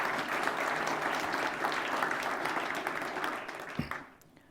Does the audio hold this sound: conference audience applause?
yes